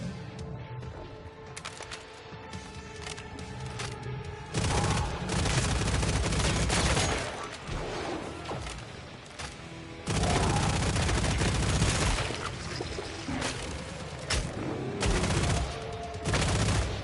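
Sustained video-game gunfire in Killing Floor 3, loud dense bursts of shots and booms rolling almost continuously, with a brief quieter stretch early on and heavy volleys throughout.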